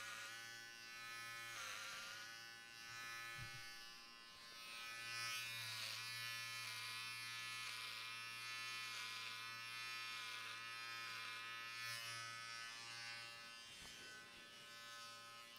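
Electric hair clippers hum steadily through a buzz cut, a continuous droning buzz with small shifts in pitch and load as they move over the hair, close and unbroken.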